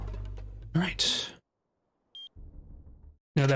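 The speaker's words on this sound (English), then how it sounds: "that beeping sound you heard just for a second on the map screen" A short electronic beep sounds once, alone and brief, on the map screen of the PowerSlave Exhumed video game, between stretches of talk and a low hum.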